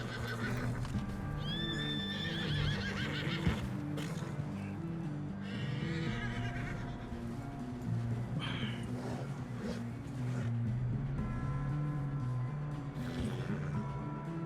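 A horse in the Red Dead Redemption 2 video game whinnies sharply near the start, with clip-clopping hooves and a steady musical score running throughout.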